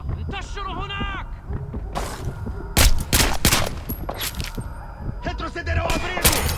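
Gunfire erupts in Splinter Cell Blacklist during a Benghazi safe-house rescue: several loud, sharp bursts and cracks ring out between shouted voices in Portuguese and Arabic.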